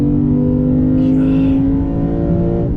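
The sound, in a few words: sport sedan engine accelerating, gear shifts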